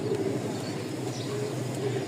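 Pigeons coo in low, rolling, overlapping calls at close range, a steady murmur with no talk.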